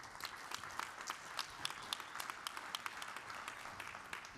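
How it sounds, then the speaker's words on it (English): Audience applause for the CEO and president of Firebirds Wood Fired Grill at a business conference, a steady spread of many hands clapping at moderate distance, fairly quiet and even throughout with no talking. "So let's give him a round of applause"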